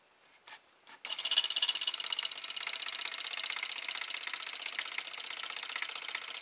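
A small motor runs on a styrofoam-plate hovercraft, starting abruptly after a few light taps and then holding a fast, steady, whirring buzz at close range, moderately loud and unbroken.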